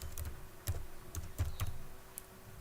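Keys clack on a computer keyboard as a command is typed, several soft, irregular taps close by over a steady hum of background noise.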